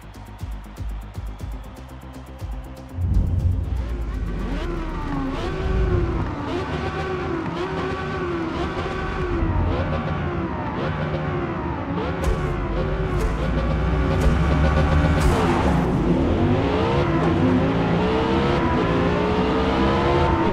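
Race car engines from Forza Motorsport roar loudly and steadily, with rising and falling revs through gear changes and a dense field of cars; a quieter menu-like start gives way to sustained racing engine noise.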